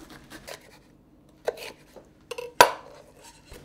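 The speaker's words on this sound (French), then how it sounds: "Là, je vais attaquer le poivron." A knife cuts through a bell pepper on a kitchen board while Mediterranean sautéed vegetables are prepared, giving a few scattered soft crunches and taps, then one sharp close chop near the end, with quiet gaps between the strokes.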